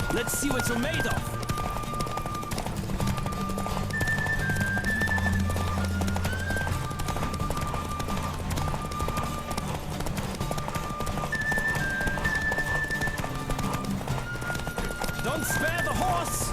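Galloping hooves drive steadily through a horse race in The Witcher video game, a constant rhythmic clatter beneath layered game music, with a whinny and characters' voices calling out over it.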